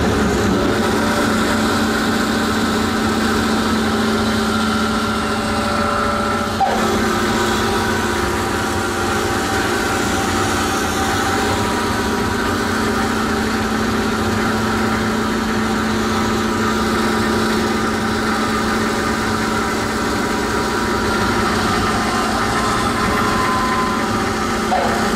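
A 1971 Delta Rockwell bandsaw runs steadily in a woodworking shop, a continuous motor hum with a whirring blade tone that stays close and fairly loud, with no talk throughout.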